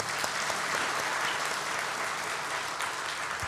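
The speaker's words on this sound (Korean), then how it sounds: "고생하셨다고 수고하셨다고 박수 한번 드리도록 하겠습니다" A church congregation at Sunday service applauds retiring deacons, a steady, sustained wash of clapping from many hands with no voices over it.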